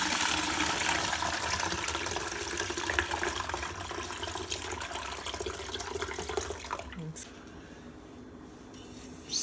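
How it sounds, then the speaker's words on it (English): Hibiscus zobo drink is poured steadily through a regular strainer into a one-gallon pitcher, a continuous splashing pour that stops near the end, leaving quiet. "a 1 gallon pitcher and a regular strainer that I'm going to slowly and carefully try to pour"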